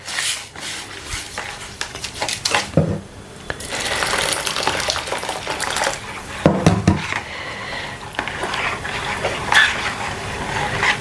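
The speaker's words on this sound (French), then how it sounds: "je vais mettre de l'eau et je vais rincer en fait" Water splashing and sloshing in a pot while a half packet of food is rinsed, with clinking of the pot and irregular gushes and stirring sounds.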